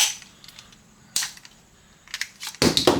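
A plastic toy blaster magazine rattles as it is shaken, giving a few sharp clattering bursts separated by short quiet gaps, close by and fairly soft.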